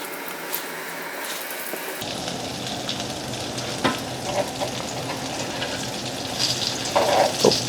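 Sweet corn tamale cakes sizzle and crackle steadily in hot oil in a frying pan, a dense frying hiss that starts suddenly and continues with small pops and stirring sounds.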